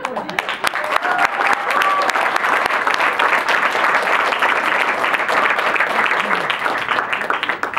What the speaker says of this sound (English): big round of applause to our next speaker, Yernur